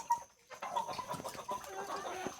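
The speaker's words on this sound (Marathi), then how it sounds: "हा बघा कोंबडा" A flock of free-range desi hens with a multicoloured rooster in a rural poultry shed in Ratnagiri, Sangameshwar, giving a steady string of nearby clucks and squawks after a brief lull, moderately loud and without voices.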